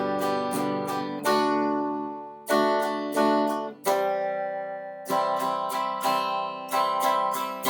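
Strummed guitar playing at the second level of a tutorial, with clear chords ringing out in a slow steady rhythm, alone and without talk.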